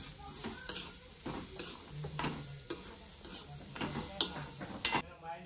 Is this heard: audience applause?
no